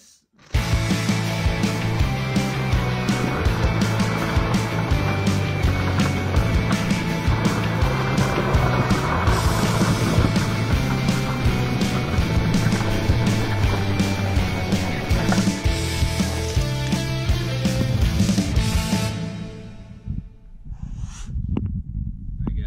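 Hot Wheels NASCAR toy die-cast cars race down a toy track with a loud, sustained rolling rumble and clatter for about eighteen seconds. The noise then stops abruptly, leaving a few faint knocks.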